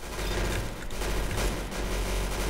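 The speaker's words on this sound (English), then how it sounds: "If it's this gun, it's gonna be absolute mayhem with gunfire." Rapid, dense gunfire from a video game shooter, a continuous loud mechanical rattle of shots with no pauses, filling the whole moment alone without talk.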